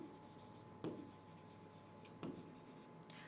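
Chalk or marker strokes on a classroom board during an English grammar lesson, two distinct quick scratches separated by a quiet pause, faint and close with no talk over them.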